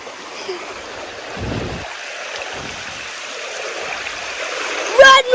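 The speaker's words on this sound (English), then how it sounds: "I am in the river." A backyard river in Jamaica rushes and gurgles steadily close by, a broad continuous water hiss with brief splashy bursts and a voice heard briefly near the end.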